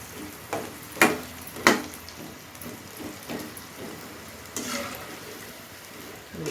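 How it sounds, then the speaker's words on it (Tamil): Raw green peanuts frying in hot oil in a pan, a soft continuous bubbling sizzle with a few sharp spatters and pops, close and moderately quiet. "எண்ணெய் மேலே தெரிக்குது"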